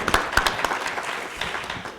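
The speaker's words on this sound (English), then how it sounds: "Let's give her a round of applause for sitting through this." Audience applause at a chamber of commerce candidates forum: a steady spread of many hands clapping that fills the room, with several sharper claps standing out near the start and the sound holding level across the stretch.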